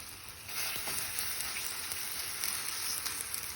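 Rava dosa batter sizzles on a hot pan once it is poured, a sudden rise into a steady, hissing, rain-like crackle that stays close and even, and nobody speaks.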